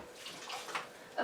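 Boiling water pours into a pot for homemade baked beans in a steady, moderately close splashing stream that swells slightly at the end.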